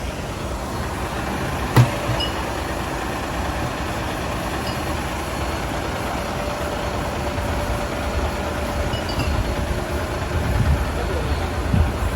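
A Scania 360 truck engine idles at a steady low rumble throughout, with one sharp knock near the start and faint voices in the background.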